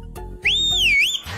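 A single loud whistle in a comedy film scene rises sharply, holds, dips and climbs again before cutting off, clear and close over a quiet background.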